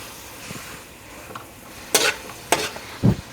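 Thinly sliced onions fry faintly in oil in a pan, punctuated by three sharp scraping stirs of a utensil against the pan, close by.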